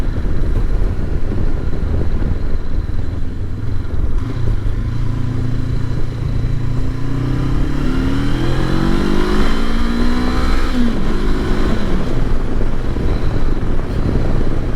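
A Honda CB500X parallel-twin motorcycle pulls away on the road, its engine note climbing steadily through the revs and shifting up, loud and close over constant wind rush, with no talking.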